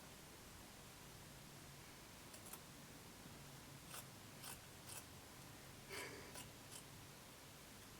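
Scissors trim a fabric neck seam allowance on a sewing project, a quiet scattering of crisp snips in small clusters over a steady hiss, faint and close.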